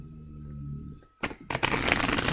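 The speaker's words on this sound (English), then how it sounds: "They even like sound nice as they shuffle." Wise Dog Tarot cards with a matte surface are shuffled close to the microphone: after a quiet hum, two bursts of rapid riffling patter, the second longer and continuing to the end.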